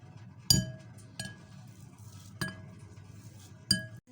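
A fork strikes a bowl while mashing boiled eggs for egg mayo sandwiches, giving four sharp, separate clinks spaced about a second apart, close and fairly quiet against a soft background.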